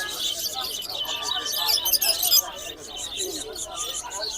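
Many pigeons chirp and flutter close together in a busy cluster at the Hemayetpur pigeon market, with people's voices murmuring underneath.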